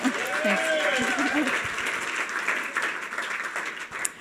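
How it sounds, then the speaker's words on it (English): Audience applause at a closing-remarks event, a steady dense patter of clapping from a crowd that holds for about four seconds, with a few voices and cheers mixed in at the start. "Let's give Gayle a round of applause."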